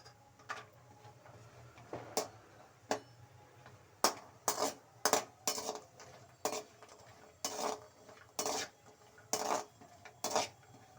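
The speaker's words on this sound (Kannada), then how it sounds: "ಅಲ್ಲಿ ತನಕ ಒಂದು ಸ್ವಲ್ಪ ಗೋಡಂಬಿನ ಚೆನ್ನಾಗಿ ಹುರ್ಕೊಳ್ಳಿ" Cashews being roasted and stirred in a pan, with a steady series of distinct metallic clinks and scrapes from the spoon against the pan every half second or so, over a low background hum and no talk.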